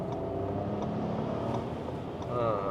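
Maruti Brezza Turbo engine revving steadily as the car accelerates, a continuous drone that rises slightly in pitch near the end, heard from inside the cabin with faint background noise.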